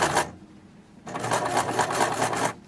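Sewing machine stitching scallops on fabric for a glasses case, two bursts of rapid, evenly pulsed motor whirring close by, with a short pause between them.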